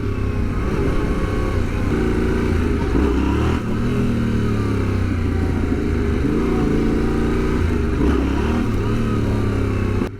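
A motorcycle engine revs hard and steadily as the throttle is opened for a wheelie on the road, loud and close with rising and falling pitch over about ten seconds and no talking.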